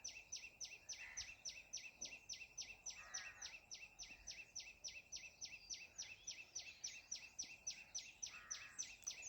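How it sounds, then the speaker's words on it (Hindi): A single unidentified bird on a riverbank near Dindori calls without pause, repeating the same high, piercing note in a rapid, machine-like rhythm. Occasional softer rustles sit underneath, and no one speaks. "कौन सा पक्षी है, कितनी देर से एक ही सांस में बोले चला जा रहा है।"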